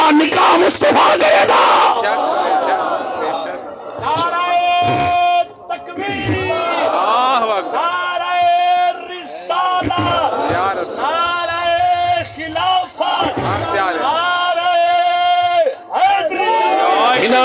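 A large crowd at a religious gathering chants slogans in loud, rhythmic unison responses, voices bellowing together in repeated bursts with a lead voice calling between them.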